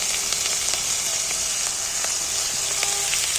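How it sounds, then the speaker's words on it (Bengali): Sliced onions drop into hot oil in a pot over a wood-fired stove, already sizzling with cardamom, cloves, cinnamon and whole cumin, producing a loud, steady frying hiss with faint crackles throughout. "এইবার আমি পেঁয়াজগুলো তুলে দিচ্ছি"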